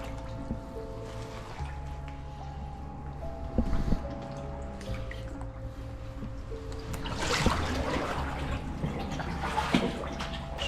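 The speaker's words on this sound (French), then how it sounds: "Je commence à remuer toute l'eau." Water being stirred and sloshed by someone wading inside an old stone tunnel, soft splashes and drips echoing off the walls, building to louder churning swishes toward the end.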